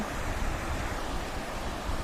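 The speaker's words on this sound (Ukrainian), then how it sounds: "слухаємо цей шум оцей води і гріємось на сонечку" Steady broadband rush of flowing water, continuous and close, a small waterfall splashing over rocks, with no voices.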